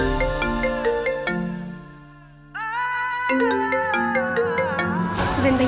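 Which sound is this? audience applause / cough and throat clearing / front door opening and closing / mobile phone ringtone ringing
mobile phone ringtone ringing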